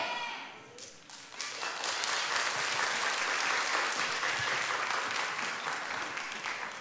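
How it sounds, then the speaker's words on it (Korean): A church congregation at a worship service bursts into sustained applause, starting after a brief quiet moment, then holding a full, dense roar of many hands clapping that tapers slightly at the end. "하나님께 영광 박수를 올리겠습니다."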